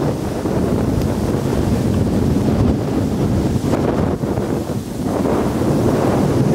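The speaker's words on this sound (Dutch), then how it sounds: "het waait wel echt ziekelijk hard" Strong wind blows hard at a waterside in Zeeland, buffeting the microphone with loud, continuous low-frequency rumble and gusting roar, close and unbroken for the whole stretch.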